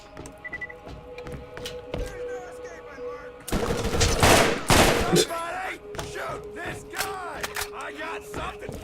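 Rapid bursts of gunfire from the Borderlands video game, in the Arid Badlands, starting after a quieter stretch and sounding loud and dense through the second half of the clip, with game sounds alongside.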